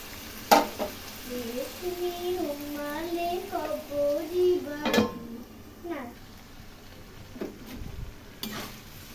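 Small fried fish go into a curry with onion greens, eggplant and potato, sizzling in a pan over a high gas flame. A steady sizzle runs under a voice, with brief clanks of utensils and pan.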